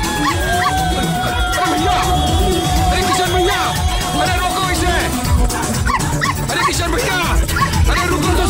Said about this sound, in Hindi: अरे कोई बचाओ भैया, इस कुत्ते से बचाओ।